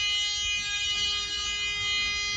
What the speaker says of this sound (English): I'm going to make sure that it opens and the alarm sounds